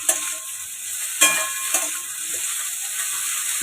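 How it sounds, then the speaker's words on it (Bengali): Brinjal stirred and fried in a pan for a pumpkin-greens ghonto: a steady close sizzle broken by three sharp scraping stir knocks, with no voices. "বেগুনটা দিয়ে একটু নাড়াচাড়া করে নেব।"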